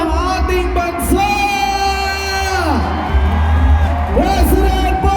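A large crowd at a Philippine political rally for a presidential arrival roars with cheers, whoops and shouts, loud and continuous, while an amplified announcer's voice carries over it.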